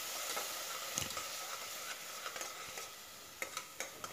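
Onion paste with fennel sautés in a pan for mutton kulambu: a soft, even sizzle with intermittent spoon scrapes, and a cluster of quick clicks near the end.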